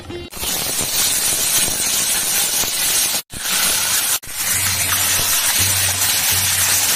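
Slashed, spice-marinated pomfret fish frying in a pan gives a loud, dense, steady hiss of hot oil and steam that cuts out sharply twice, with a low hum underneath toward the end.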